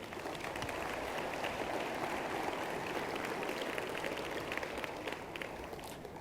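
Steady audience applause at a political rally in Lancaster, Pennsylvania for Madeline Hartzell, dense continuous clapping from a crowd holding even for about six seconds before easing slightly at the end.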